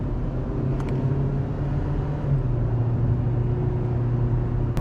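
2012 Kia Rio with a 1.6-liter GDI engine accelerating, a steady low engine drone heard from inside the cabin, its pitch holding fairly even with slight rises as speed builds.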